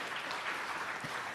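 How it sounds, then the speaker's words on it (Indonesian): Dense applause from a church congregation fills the space, a steady wash of many hands clapping throughout, moderately loud and continuous. "Tepuk tangan yang meriah bagi Tuhan Yesus"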